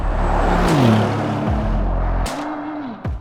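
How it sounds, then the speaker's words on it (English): A Bentley Continental GT hybrid prototype grand tourer drives with a loud, steady engine and road rumble, its pitch rising and dropping through gear changes, with a brief whoosh near the end. "We are driving a prototype today of the Bentley Continental GT."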